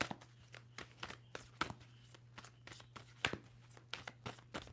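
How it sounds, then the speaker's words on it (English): A deck of tarot cards is shuffled, giving repeated soft riffling and slapping bursts in an uneven rhythm, faint and close over a low steady hum. "Two more shuffles for Pisces."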